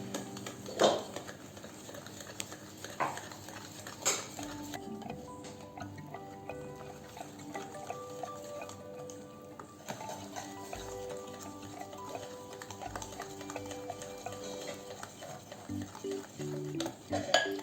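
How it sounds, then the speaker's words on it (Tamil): A spatula works through thick coffee chocolate cake batter in a bowl, making steady soft scraping and sloshing strokes with occasional knocks against the bowl's sides, continuing quietly for a long stretch. "ஸோ சைடில் இருக்கிறதெல்லாம் இந்த ஸ்பேச்சுலா வச்சு பண்ணிட்டு மிக்ஸ் பண்ணிடலாம் நல்லா."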